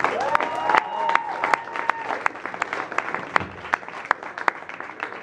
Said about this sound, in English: give a warm round of applause to one of my favorite comedians in this area, Mr. Joseph Rogers